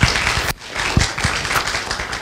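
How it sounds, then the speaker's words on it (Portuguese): An audience gives a lively round of applause to welcome a speaker at a talk, dense clapping with a brief dip partway through, then resuming strongly. "Aqui eu peço uma salva de palmas"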